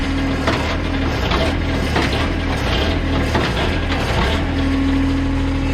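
Firewood processor clamp worked by a joystick, a steady loud mechanical drone with a constant hum, grinding and ratcheting clunks, and creaking wood as the log is gripped.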